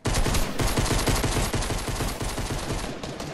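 Sustained automatic gunfire in the video game Fortnite Battle Royale, with loud, dense rapid shots rattling continuously for several seconds.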